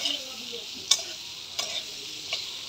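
Potatoes stir-fried in a pan, a soft continuous sizzle broken by a few distinct scraping strokes of a spatula, close and fairly quiet with no talking.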